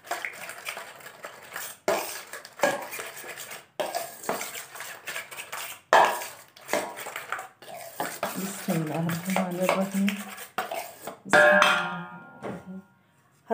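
A metal spoon clinks and scrapes around a bowl while mixing cream for a creamy fruit salad, repeated bursts of stirring with brief pauses, close and fairly loud.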